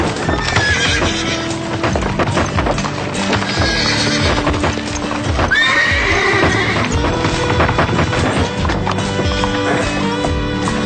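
Loud, busy hoofbeats clatter in a quick clip-clop rhythm while horses neigh and whinny sharply several times, close by and continuous.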